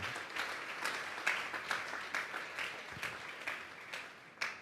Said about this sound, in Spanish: Dele un fuerte aplauso pues al Señor esta tarde.